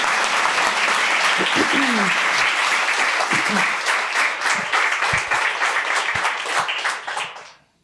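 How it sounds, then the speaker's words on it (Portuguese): Audience applause at a literary festival panel, sustained rapid clapping from a crowd with a few voices and laughs mixed in, fading out at the end. "Palmas para ele."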